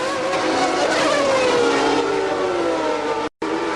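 Formula 1 cars racing at the 1991 Mexican Grand Prix, a Pirelli-shod Benetton Ford pressing a McLaren: a loud continuous engine whine with a falling Doppler pitch as a car passes close, briefly cut by a gap near the end.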